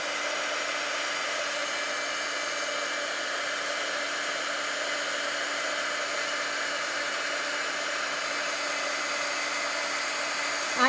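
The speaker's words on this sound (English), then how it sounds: "now I'll heat emboss" A heat gun blowing hot air to emboss leaves, giving a steady, even whoosh with a faint motor whine that holds unchanged, with nobody speaking.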